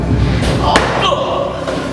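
A heavy door slams shut with a single loud thud amid a tense shouted confrontation, with people talking around it.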